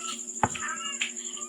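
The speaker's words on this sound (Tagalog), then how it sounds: "Ngaw-ngaw din tong mga pusa na to." A cat meows once, short and close, then gives a softer second call in a quiet home, with a faint steady hum underneath.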